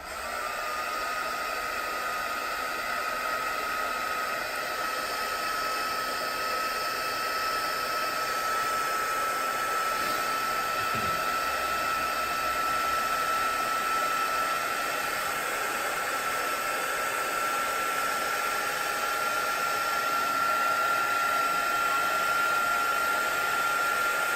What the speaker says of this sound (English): I'm just going to use my heat tool to dry it so I can show you the next part